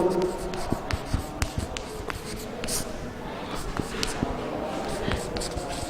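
Chalk or marker scratching out strokes on a board during a Hindi geometry lesson on similar triangles, short repeated taps and scrapes in quick rhythm, heard close under a man's steady explanatory speech.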